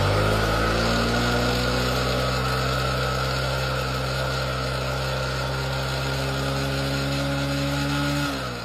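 A motorcycle engine fitted with a LiFePO4 battery is held at high revs, producing a loud, steady whine whose pitch creeps upward before dropping sharply at the end.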